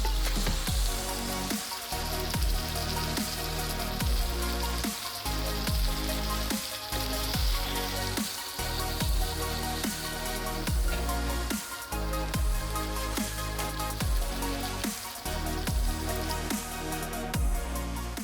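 Vegetables sauté in a pan with a loud, continuous crackling sizzle that stays close and dense throughout, punctuated by regular tosses and clanks of stirring.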